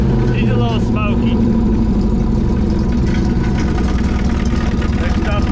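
A 1970 Mustang Mach 1 V8 under restoration idles roughly on its first start in forty years, a loud, close, lumpy rumble running steadily throughout while excited voices talk over it.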